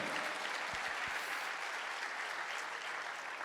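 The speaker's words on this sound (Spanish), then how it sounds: "Levanta un fuerte aplauso al Señor." Church congregation applauding during a service, a steady, even wash of many hands clapping at moderate distance, with a couple of low thumps early on.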